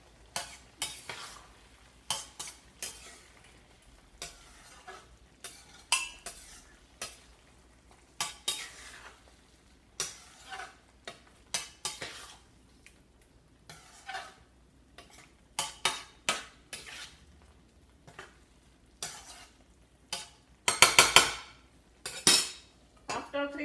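Vegetables for pav bhaji are stirred and mixed in a pan: repeated close scraping and clinking strokes of a utensil in bursts, over a faint sizzle.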